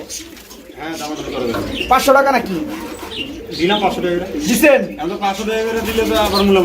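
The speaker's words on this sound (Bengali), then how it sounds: "বামেরটা হচ্ছে নর কবুতর সামনেরটা হাড়িরটা মাদি কবুতর" At a pigeon market, a pair of male and female pigeons coo softly and repeatedly under close, continuous bargaining between people.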